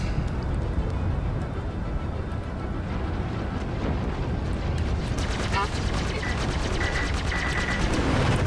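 A rapid-firing, light ship gun in the space game Star Citizen rattles in dense, continuous bursts over steady engine roar, with sharper repeated shots toward the end and people talking over it.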